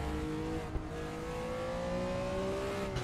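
A BMW M1 Procar race car with a 470-horsepower 3.5 litre straight-six engine howling steadily at high revs on the Nordschleife, a loud continuous engine note with rising pitch and a brief thump partway through.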